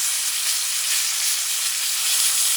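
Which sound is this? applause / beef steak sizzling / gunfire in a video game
beef steak sizzling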